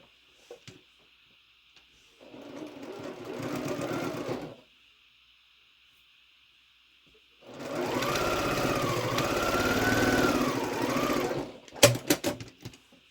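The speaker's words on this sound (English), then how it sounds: "So all I have to do is sew these together" A sewing machine stitches quilt pieces together in two sustained runs separated by a quiet pause, followed by a few sharp clicks and clatters.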